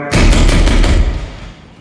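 A loud, close burst of rapid machine gun fire in the Iraq war video game Six Days in Fallujah, opening abruptly and ringing out in a booming decay.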